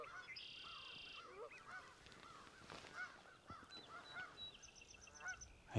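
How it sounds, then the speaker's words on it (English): Canada geese honking in a marsh, several fairly faint, scattered calls over a quiet outdoor background. "over to my left, there's a bunch of Canadian geese"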